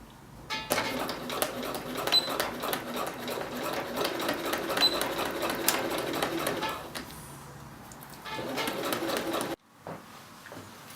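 Sewing machine stitching a trouser fly seam with repeated back tacks, a fast steady mechanical chatter that pauses briefly and resumes, then stops abruptly, with faint speech in the background.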